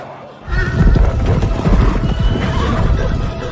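Horse neighing amid a loud, busy film battle scene from Kingdom of the Planet of the Apes, whinnies rising over dense rumbling and clatter that starts abruptly and stays strong throughout.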